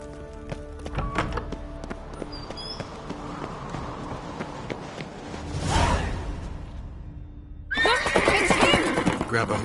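In The Witcher 3, a horse whinnies loudly amid game sound effects and background music, with a whooshing swell midway and a brighter burst of activity near the end.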